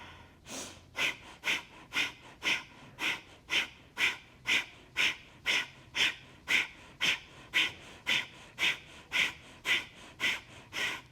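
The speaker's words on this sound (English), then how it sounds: "we'll inhale through the nose and begin breathing sharply" Sharp, rhythmic nasal breathing during a core-strength yoga flow, about twenty quick forceful exhales pumping at a steady pace, close and alone with no talk.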